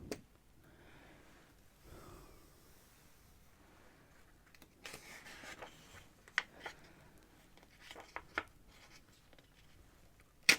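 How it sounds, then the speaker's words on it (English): Faint scratching of a pen moving across smooth paper, soft strokes coming in short bursts that grow a little busier toward the end, with no voices. "This is such smooth paper. It makes nice sounds when writing."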